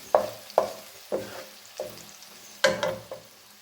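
Pieces of brinjal frying in coconut oil are turned in a pan, making six separate sizzling bursts that fade quickly between stirs. There is no talking.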